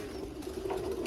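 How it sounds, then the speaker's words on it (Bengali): Pigeons coo softly in a low, steady hum inside a pigeon house where paired birds are kept, a faint, continuous murmur with no talk. "আজকে আমরা নিয়ে এসেছি আমাদের এখানে কবুতরের ঘরে।"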